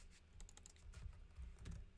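Soft, quiet typing on a computer keyboard during a live coding session, a run of close keystrokes in an uneven rhythm, no voices.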